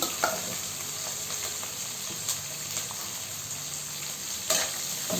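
Green chillies and onions fry in a pan, a steady moderate sizzle with occasional stirring taps and scrapes of a spatula, no voices.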